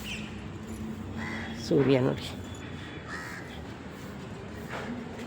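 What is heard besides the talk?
parrot calling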